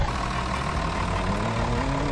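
A loud, steady diesel truck engine drone in Roblox Car Driving Indonesia, with a heavy low rumble, like a big truck running close by, unbroken for the whole moment.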